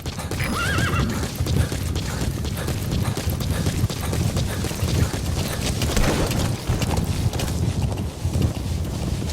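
In a video game, a horse whinnies near the start, followed by steady clip-clopping hooves at a trotting rhythm, close and continuous.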